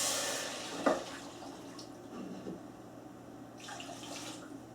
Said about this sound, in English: after you cook your flour, you will add your water to it